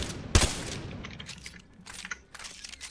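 A single Mozambique shotgun blast in Apex Legends lands as one sharp, loud crack near the start, followed by quieter clicks and handling noises with no talking.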